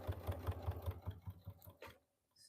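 A sewing machine top-stitches a denim corset dress, its motor thumping in a steady quick rhythm close by before slowing and stopping, followed by a brief faint rustle.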